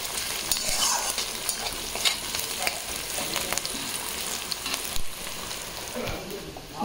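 Chicken meat cooking in a pan sizzles steadily, with scattered scraping clicks from stirring, close and moderately loud, and no talk.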